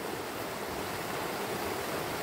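A clear stream flows in an unbroken, even wash of rushing water, close and steady for a couple of seconds, with no voices.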